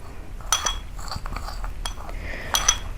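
Coconut oil hand scrub being stirred in a bowl, with a few sharp spoon-against-bowl clinks and soft scraping, close and fairly quiet.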